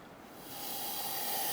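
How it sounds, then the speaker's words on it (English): A steady propane hiss from a torch swells from faint to a strong, even rush within about a second, then holds constant at close range. "You should be able to hear propane physically coming out of it."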